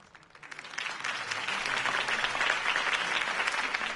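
Crowd applause after a mayoral campaign speech in a city rally setting rises from quiet to a dense, sustained wash of many hands clapping, loud and steady to the end.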